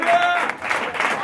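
During an evening church service, a congregation gives a round of applause and vocal acclamation, with clapping blended with crowd voices and a brief sustained tone early on, dipping slightly midway.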